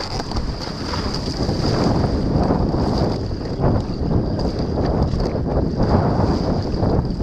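Paddling on ocean waves while catching a wave, with loud rushing water and heavy wind buffeting the microphone throughout, a continuous roaring surge with no talking.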